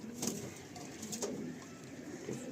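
A female tournament-quality Madrasi pigeon gives soft, faint coos, a few short murmuring calls close by in a quiet setting.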